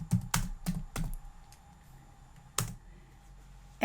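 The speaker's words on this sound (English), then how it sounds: "I'm going to type in the words printed on" Several distinct clacks on a computer keyboard come in a quick cluster, then pause before a final few taps, close and fairly loud over a low steady hum.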